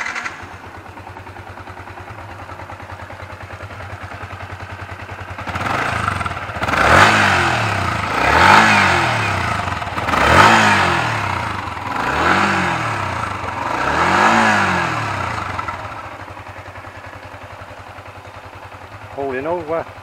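A Yamaha Exciter 150 motorbike engine idling, then revved five times in a row with rising and falling whines, loud and close, before settling back to a low idle.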